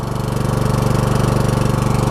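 A Troy-Bilt Pony MTD riding mower's small engine runs at idle nearby, a loud, steady, fast chugging throb with even rhythmic pulses.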